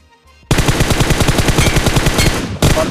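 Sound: gunshots and headshots in PUBG Mobile video game

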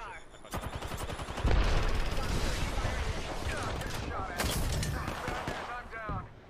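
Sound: gunfire in Apex Legends video game

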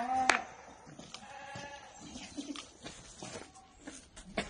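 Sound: Boer goat bleating

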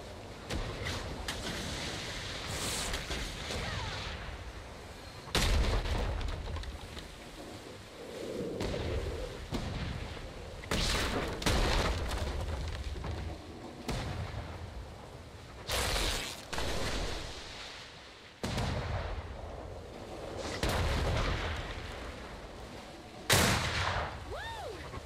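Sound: cannon fire in a naval battle video game

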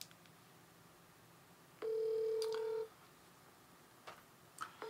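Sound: telephone dialing tones

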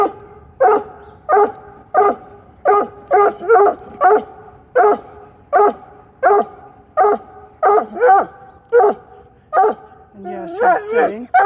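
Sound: dog barking

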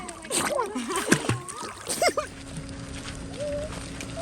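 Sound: water splashing as a child dives

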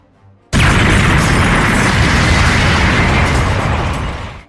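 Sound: explosion sound effect

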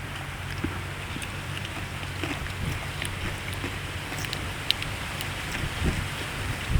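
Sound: rain

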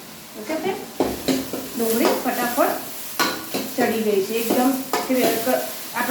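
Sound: cumin and asafoetida sizzling in hot oil

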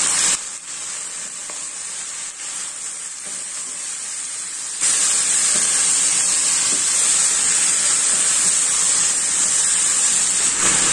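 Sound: stirring gizzards with bell pepper, tomato and salt in pan

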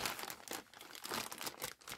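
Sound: crinkling a bag

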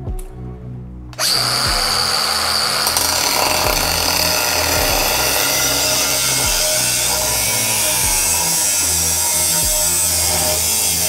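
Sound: cutting off end of Land Cruiser diesel muffler

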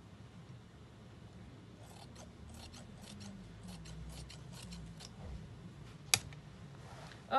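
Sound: scissors cutting dress fabric

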